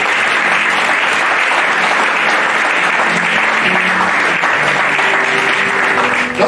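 A church congregation applauds during a sermon on wisdom, a dense, steady, loud burst of clapping and cheering that fills the whole stretch without a break.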